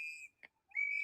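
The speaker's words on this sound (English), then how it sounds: "Bystanders are blowing whistles and yelling at federal agents." Bystanders blow shrill whistles at federal agents during a street confrontation: a long sustained whistle blast, a brief chirp, then another sustained blast, loud and close with no talk.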